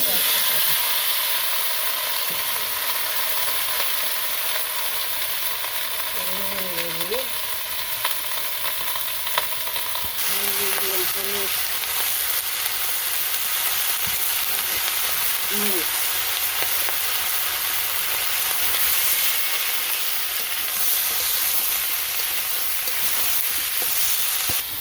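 Fish frying in a pan in a home kitchen, with a steady sizzle and hiss running throughout at moderate loudness. Brief tonal sounds appear now and then, and there is no clear talk.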